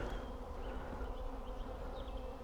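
A honeybee swarm from an apiary buzzes as a dense, continuous drone close by, steady throughout, with no voices.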